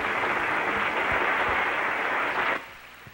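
Applause from a church audience at a healing talk, a dense steady wash of clapping that holds loud for about two and a half seconds before dropping away abruptly.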